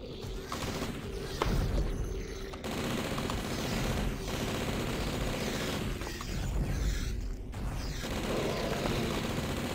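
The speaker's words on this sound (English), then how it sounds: "you're supposed to shoot at it until it dies" Rapid gunfire in the shooter game Blood, with dense, loud bursts of automatic shots and booms repeating almost without pause over nearly ten seconds.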